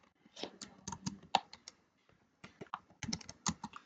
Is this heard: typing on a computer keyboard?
yes